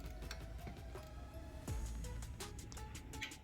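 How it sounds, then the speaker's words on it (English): A wrench jammed against a Chevy Trax strut with a T40 bit breaks a front sway bar link nut free, heard as a quiet stretch of clicking, ratcheting mechanical noise with a sharper crack partway through. "we're going to jam the wrench against the strut and use the T40 to break it free."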